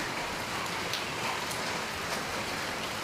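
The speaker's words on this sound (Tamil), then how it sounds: "சில நேரத்தில் வேகமாக பெய்யுது, சில நேரத்தில் பொறுமையாக பெய்யுது." Steady rain falls on a road outdoors, a dense, even hiss with scattered droplet patters, continuous and fairly close throughout.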